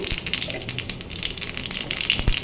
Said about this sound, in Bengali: এখানে আমি জিরে ফোড়ন দিয়ে দিচ্ছি